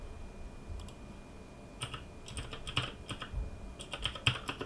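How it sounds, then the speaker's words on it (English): Fingers tap out irregular bursts of keystrokes on a computer keyboard, close and crisp, with short pauses between clusters of clicks and no talking. "I'm navigating with keyboard only because this console is not mouse friendly"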